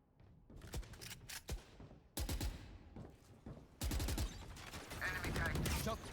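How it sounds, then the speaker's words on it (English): Sharp pistol shots from a Sheriff in Valorant, several distinct loud cracks spaced apart amid other gunfire and game effects, with a commentator talking over the action. "a nasty headshot coming in from Babo with the Sheriff Ace"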